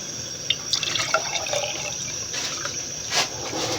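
Water poured from a glass into a cooking pot while making vegetable pulao, a steady splashing, gurgling fill with a few louder drips and splashes, close by and heard alone without talk.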